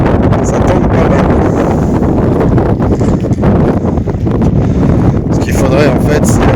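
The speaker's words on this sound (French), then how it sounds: "Il y a beaucoup de vent aujourd'hui, donc les vagues c'est assez compliqué avec le canoë gonflable." Strong wind roaring across a microphone on a lake, with choppy water near an inflatable canoe, a loud continuous buffeting that persists throughout the clip.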